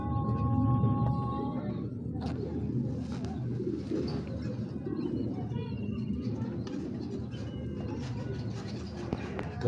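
Racing club pigeons, including a female, coo in low repeated throaty calls close by, over a steady background murmur with a few faint higher chirps.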